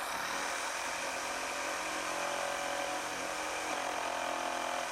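A table saw with its table tilted 12.5 degrees runs steadily, nibbling out leftover wood from a mortise for a rocking horse, a dense, constant mechanical whir held close and loud for the whole stretch.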